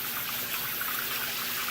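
Warm water poured onto thermochromic paint laid over a base coat, a steady close trickling and splashing stream running evenly throughout without talk.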